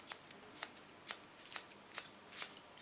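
Scissors cut hair during a bob haircut. Six crisp, regularly spaced snips sound close and fairly quiet over a soft background hiss.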